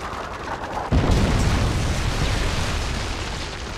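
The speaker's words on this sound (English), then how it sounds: "Predator missile inbound." A Predator missile strike in Modern Warfare 3 hits with a sudden loud boom, then a long rumbling roar that slowly fades.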